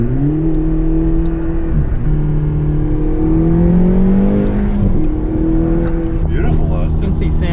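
A Corvette ZR1 engine drones loudly from inside the cabin as it accelerates, its pitch rising and settling, with turbo spool, a brief dip near the middle and continuous road rumble throughout.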